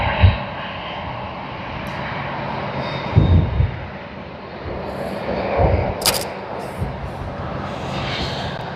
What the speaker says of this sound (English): Nice, Cathay Pacific cargo.